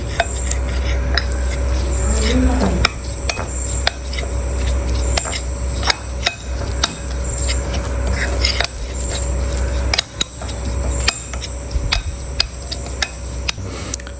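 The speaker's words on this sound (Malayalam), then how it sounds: "വെളിച്ചെണ്ണയും പിന്നെ ഉപ്പും ചേർത്ത് ഇത് നല്ല രീതിയിലൊന്ന് മിക്സ് ചെയ്തെടുക്കണം" Coconut oil and salt marinade for prawns being mixed in a bowl, with steady clinks and scrapes of a utensil against the dish repeating throughout, close and fairly loud over a low kitchen hum.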